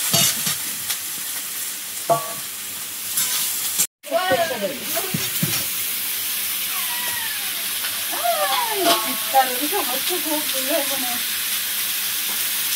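Chopped onion, chili and garlic drop into hot fish oil with a loud steady sizzle, joined by stirring scrapes, while birds chirp and chatter clearly in the background after a brief cut.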